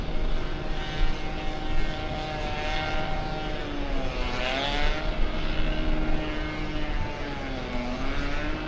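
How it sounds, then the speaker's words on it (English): An Aeromexico Boeing 787 arriving at LAX on the south side, its loud, close jet roar sustained throughout with shifting engine tones sweeping past. "Let's go over to the Mexican 787. Also a south side arrival."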